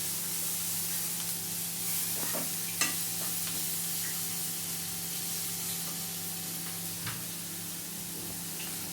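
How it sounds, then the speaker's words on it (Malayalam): Tomatoes and cooked horse gram with potato sautéing in a pan, a steady soft sizzle and hiss running throughout with a couple of faint stirring clicks, close but quiet and without talk. "ഒന്ന് വഴറ്റണ വരെ നമുക്ക് വെയിറ്റ് ചെയ്യാം"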